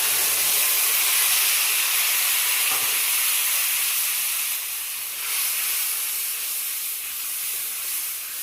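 Tomato puree gravy hits fried onions in a kadhai for besan gatte sabji, giving a loud, steady hiss and sizzle that runs throughout and eases slightly toward the end, with no talking.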